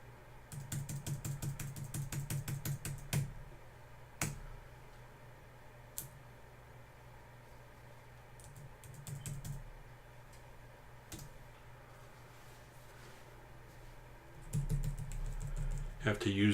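Keys on a computer keyboard are tapped in quick bursts of sharp clicks, with scattered single presses and quieter gaps between them, heard close against faint background noise.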